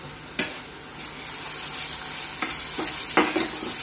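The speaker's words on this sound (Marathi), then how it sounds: "आता त्यामध्ये मिरची लसूणची पेस्ट टाकायची" Onion fries in a pan as chili-garlic paste goes in and is stirred, giving a steady close sizzle broken by a few scraping stir strokes.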